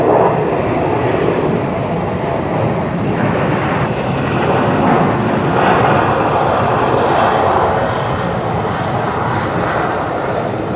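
A Qantas airliner taking off from runway 01 right at Brisbane airport at night, a loud, steady roar of jet engines that holds throughout.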